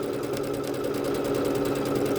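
A Bernette B-77 sewing machine stitches in a fast, even run of needle strokes, a close mechanical chatter that holds steady the whole time.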